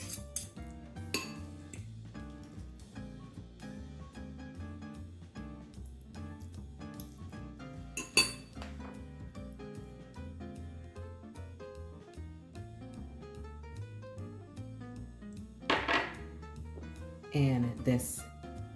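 Baked feta pasta is served into a bowl, with soft clinks and scrapes of a utensil on dishes scattered over steady background music and a few louder clatters near the end.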